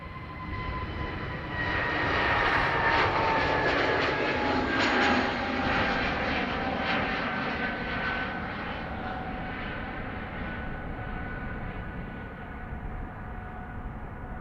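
An Airbus A330 at Dublin Airport produces a long engine roar with whining tones that swells over the first few seconds, then slowly fades while staying audible at a distance.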